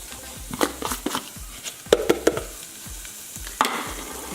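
Garlic frying in oil in a cooking pot over a medium flame, with a steady soft sizzle broken by several sharp scrapes and clacks of a utensil stirring it close by.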